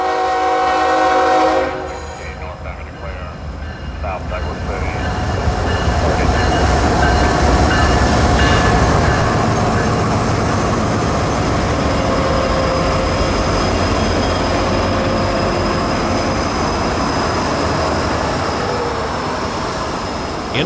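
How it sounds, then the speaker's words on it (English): Loaded coal train running from a Kentucky mine to a Florida power plant rolls past steadily and loud, with a horn blast at the start, then continuous wheel and car rumble with faint flange squeal sustained to the end. "NO13, a loaded coal train from Cardinal 9 Mine in Kentucky to Seminole"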